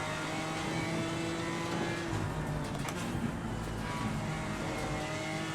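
GT4 race car in the sim racing game Assetto Corsa Competizione, its engine humming and revving steadily at a low, muffled level throughout, with no voices.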